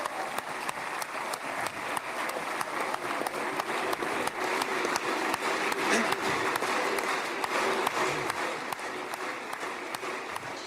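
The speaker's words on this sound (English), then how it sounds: "So we saw that crowd go wild. The Knesset, that's their legislative body, as the President of the United States was introduced." Sustained applause fills the Knesset chamber in Jerusalem as the US President is introduced, a dense, steady wash of clapping from a large legislative audience with scattered crowd noise, continuous and loud throughout.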